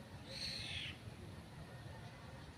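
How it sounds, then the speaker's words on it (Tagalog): A faint, brief bird call rings out once early on over steady outdoor background hiss in a cemetery, then fades into quiet ambience. "Kasama kaming ibon."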